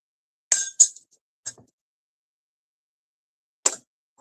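A glass is picked up and set down at a pub table during a whiskey tasting, giving a few sharp, bright clinks, two in quick succession, then a softer tap and one more clink after a pause, in an otherwise quiet room.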